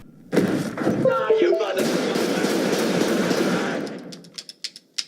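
A rapid volley of gunshots from the Pulp Fiction apartment scene, with a man bursting out of a bathroom firing. A dense, loud burst is followed by a few sharp separate cracks, and a voice is partly mixed in.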